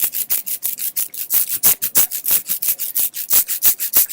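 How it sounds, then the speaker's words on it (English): An ink brayer rolls back and forth through ink on a flat surface, making a rapid, steady series of sticky, rasping swishes close by with no voices. "with your roller, you take it, roll it back and forth"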